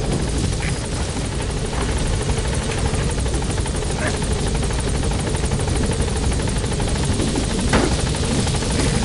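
Helicopter in Metal Gear Solid V: The Phantom Pain, a steady, loud rotor drone with dense chopping texture filling the whole stretch, with no speech over it.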